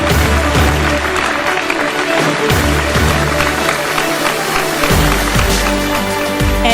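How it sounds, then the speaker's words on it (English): Audience applause at the IHFS 2024 ceremony for an inductee receiving a ceremonial shawl, steady broadband clapping over loud, continuous background music with deep bass. "Everybody please give her a round of applause."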